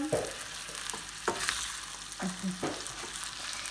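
Beef sizzles steadily in a hot pan, with a few scraping stirs of a utensil breaking through the frying hiss.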